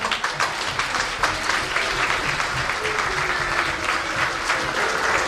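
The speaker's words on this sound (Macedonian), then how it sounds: "Аплауз се молам." An audience at a children's book promotion event claps in sustained, dense applause that stays fairly even in loudness, with a few murmuring voices mixed in.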